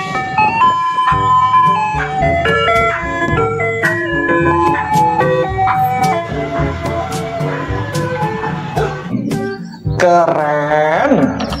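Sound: toy ice cream truck playing its jingle

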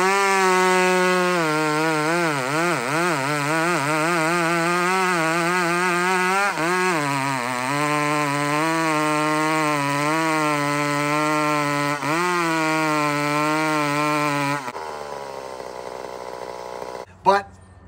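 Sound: chainsaw running, an 850 power saw with stock muffler

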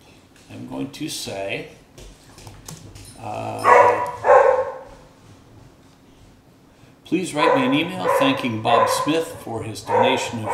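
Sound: dog barking

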